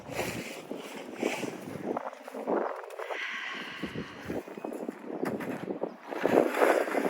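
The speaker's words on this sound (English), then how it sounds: "Ooh, the wind's picked up." Gusty winter wind blows outdoors on a farm ahead of a snowstorm, a steady rushing roar that swells and eases in waves, buffeting the microphone close up with no talking.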